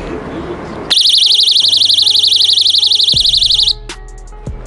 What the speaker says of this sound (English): I'll be giving you a quick demonstration as to how these personal attack alarms work